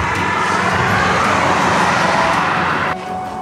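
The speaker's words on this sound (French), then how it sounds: "on voit les voitures passer et c'est un peu bruyant" Steady roar of cars and other traffic streaming past on a road running right alongside the Camino de Santiago pilgrim trail in Spain, loud and continuous, easing slightly near the end, no talking.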